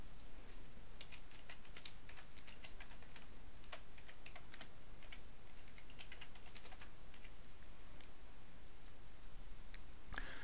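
Keys on a computer keyboard are typed as a web address is entered, faint scattered clicks over a steady background hiss with no voices.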